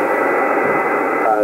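A Yaesu FT-991 amateur radio receiver hisses with static, a faint French broadcast voice carrying through the noise.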